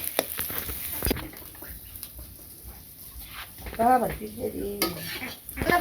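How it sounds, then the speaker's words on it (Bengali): Onions frying in a pan give a steady sizzle and crackle, with occasional stirring scrapes and a voice speaking nearby partway through. "পেঁয়াজ ভাজা হয়েছে"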